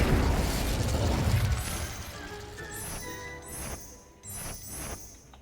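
The Incendio fire spell goes off in Hogwarts Legacy as a burst of fiery whooshing and booming, followed by crackling pops and bright magical chimes that fade out over a few seconds.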